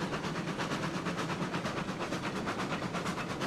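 The Eureka steam locomotive in RailRoads Online chuffs in a quick, even rhythm, a steady near rumble with regular rail clatter and no talking.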